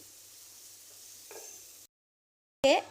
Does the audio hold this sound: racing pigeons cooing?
no